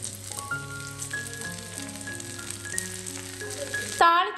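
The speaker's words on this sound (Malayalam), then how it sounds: "ഒരല്പം കറിവേപ്പിലയും കൂടെ ചേർത്തിട്ട് നമുക്ക് ഈ താളിപ്പ് കപ്പയിലോട്ട് ഒഴിച്ചു കൊടുക്കുക" Hot oil tempering of shallots, dried red chilies and curry leaves sizzles steadily at close range as it is poured over cooked tapioca, with a louder burst of crackling near the end.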